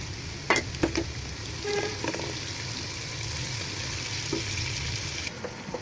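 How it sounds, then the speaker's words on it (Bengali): Ground spice paste frying in hot oil with fried onions for chicken biryani: a continuous close sizzle, with a few clattering stirs of a utensil against the pot early on and no talk. "বাটা মশলাগুলো দিয়ে দিচ্ছি।"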